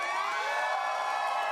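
An improv comedy audience applauds, whoops and hollers to vote, a dense, loud wall of cheering and shouting that holds steady throughout.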